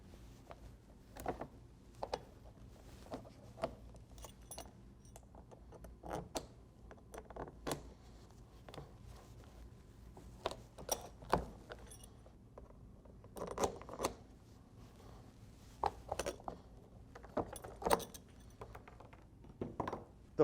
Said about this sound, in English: To break the bolts, use the corresponding bolt breakers for the fastener size selected.